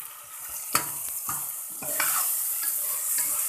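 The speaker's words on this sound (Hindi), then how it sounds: "अब हम इसके अंदर अपने सारे स्पाइसेस डाल देंगे" Tomatoes and spices for mutton qeema karela sizzle in a hot pot as a spoon stirs and knocks against the sides a few times, a close, brief burst of frying with no voices.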